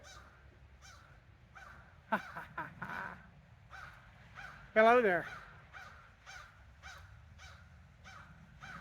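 A crow caws over and over in a steady, evenly spaced series, fairly close and clear, with a sharper burst of louder calls partway through; a person speaks a brief greeting near the start.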